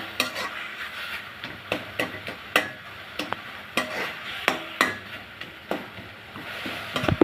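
Ghee stirred into grated radish and potato in a pan for a radish naru sweet, giving a series of sharp scraping and tapping strokes at an uneven rhythm, close and moderately loud, with no voices.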